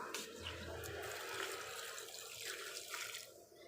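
Water runs and splashes while vegetable seedlings are watered outdoors, a faint continuous gushing and trickling with slight changes in flow and no voices over it.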